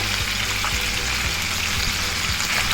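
Chicken sizzles steadily in a pan, a continuous loud hiss broken by repeated low knocks and clatters as pieces shift.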